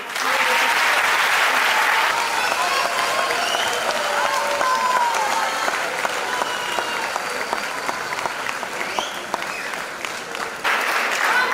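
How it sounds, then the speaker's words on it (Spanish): A graduation ceremony audience applauds for a long stretch, with dense, steady clapping from a large crowd that stays loud throughout and swells again near the end. "pues un fuerte aplauso para nuestros compañeros del CGTB."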